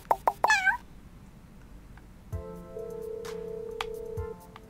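In the video game Balance100, a cat meows in three quick, close calls, followed by quieter game tones and soft clicks.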